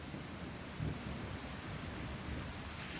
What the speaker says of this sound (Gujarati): વીજળીના કડાકા સાથે વરસાદ વરસ્યો।